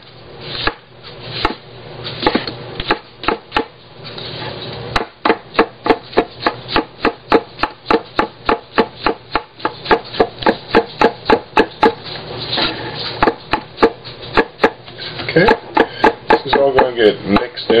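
Knife mincing sliced mushrooms for burgers, steady rapid chopping on a cutting board in a run of sharp, evenly spaced close strikes, loud and dry.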